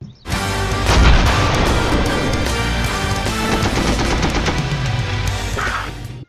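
Dense, loud battlefield gunfire from the Red Orchestra war game, with rapid machine-gun bursts, rifle cracks and heavy booming artillery blasts overlapping without pause for several seconds.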